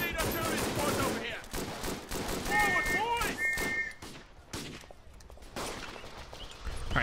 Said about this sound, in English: Shit, I'm getting shot at.